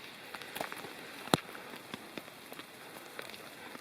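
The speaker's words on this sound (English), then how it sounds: "The rain kept coming down, and it didn't appear to be about to stop anytime soon." Steady summer rain patters on leaves and ground in a mountain forest, with one sharper close drop striking among the dense soft pattering; no voices.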